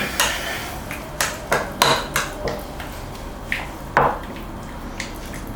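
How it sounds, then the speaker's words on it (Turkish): A utensil stirs a garlicky roasted eggplant mash with tahini in a bowl, making about ten sharp clinks and taps in an irregular rhythm against soft wet mixing. "İyice karıştırıyorum."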